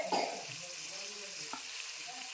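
Onion, green chili and dill greens fry and get stirred in a pan, with a steady soft sizzle, a brief louder scrape near the start and another light clink midway.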